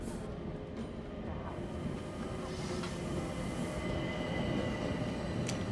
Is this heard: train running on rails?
yes